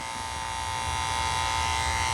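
An electric shaver buzzes steadily and continuously while grooming the rear of a Shih Tzu dog, a close, loud, even motor drone with no speech over it.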